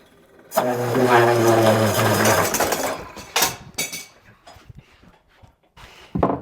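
A Laguna DP:20 drill press hums steadily for a few seconds, then clamped wood breaks free and spins with clattering, scattered knocks and rattles as it winds down.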